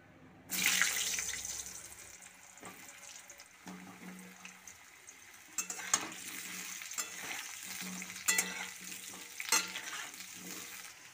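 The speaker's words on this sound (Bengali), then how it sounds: "বড় সাইজের 2টো আলুকে চৌকো চৌকো করে কেটে রেখেছি, সেইগুলো এর মধ্যে ভেজে নেব।" Potato cubes hit hot oil in a pan with a burst of sizzling, then keep frying steadily while a utensil stirs and scrapes now and then.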